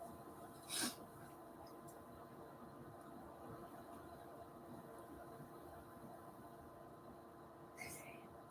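One short, faint sneeze bursts out near the start of a quiet morning broadcast. A second, softer noise follows several seconds later over low background hiss.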